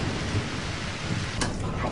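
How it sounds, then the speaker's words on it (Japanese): A thunderstorm with rain over the Kanto plain in Japan during the rainy-season front: steady, dense rain hiss with a deep, distant thunder rumble underneath, continuous throughout. "関東地方平野部ではところによって雷が発生し、不安定な天候になっています"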